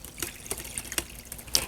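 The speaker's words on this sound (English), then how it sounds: "Next, we'll just add some water about halfway up." Cold water poured into an oven-proof Pyrex pan around a flan pan, heard as several short splashing bursts and trickles, fairly close and alone.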